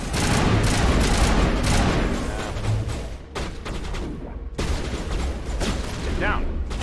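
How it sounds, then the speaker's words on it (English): Gunfire bursts in the Mass Effect video game, dense rattling shots layered with booms and combat noise, loud and continuous with brief dips. "That was burst of fire."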